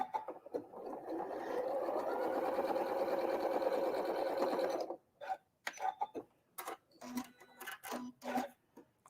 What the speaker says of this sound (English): sew that 1/4 inch right there